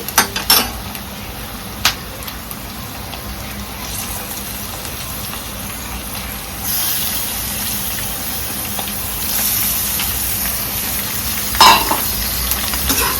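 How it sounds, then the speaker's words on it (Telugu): Chicken goes into a pan of frying onions and green chillies, and a steady sizzle swells into a louder, fuller hiss with occasional clinks of a spoon against the pan. "ఇదిగోండి ఉల్లిపాయను పచ్చిమిరకాయలు వేసాను కదండి, చికెన్ వేస్తున్నానండి."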